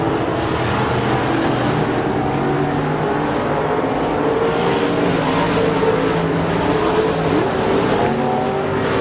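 Race cars of the KR Cup field roar down the front straight at Rocket Raceway Park, a dense, continuous engine drone with layered revs from the pack, loud and steady throughout.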